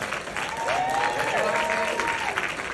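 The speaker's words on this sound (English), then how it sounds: "Round of applause for Matt Cohen." Audience at a creation panel gives Matt Cohen a sustained round of applause, dense steady clapping filling the room with whoops and cheering voices rising over it, holding at a constant level throughout.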